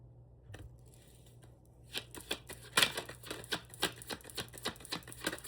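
Tarot cards being shuffled and drawn: quiet at first, then a close, rapid series of crisp flicking, riffling card snaps in an irregular rhythm.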